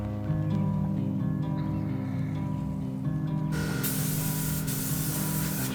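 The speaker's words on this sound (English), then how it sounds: "get spraying, I reckon" Paint spray gun on a Nissan K10 Micra respray, with a low mechanical hum from a compressor at first, then a loud bright hissing spray bursting in and holding steady.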